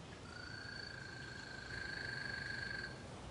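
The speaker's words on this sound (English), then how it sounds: "So I have a southern toad here for you to listen to." A recorded southern toad call plays, a steady high trill that runs for about three seconds over a faint hissing background, alone and without voices.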